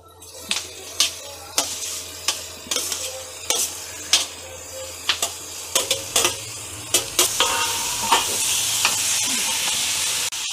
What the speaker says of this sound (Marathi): आता यामध्येच मी टोमॅटो टाकणार आहे।